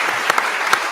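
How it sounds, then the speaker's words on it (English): Conference delegates at a party conference applaud in a brief, dense burst of clapping that fills the whole second at steady loudness, with a few sharper claps standing out. "he deserves a round of applause"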